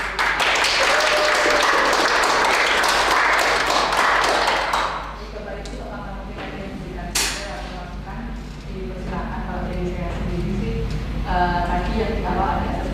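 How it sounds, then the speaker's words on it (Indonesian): An indoor audience at an Indonesian teachers' sharing session claps loudly and densely for about five seconds, then the applause fades and a speaker continues talking. "Kami beri tepuk tangan."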